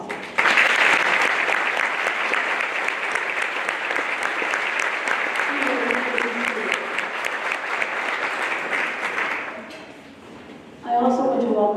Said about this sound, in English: Please celebrate these women with your applause.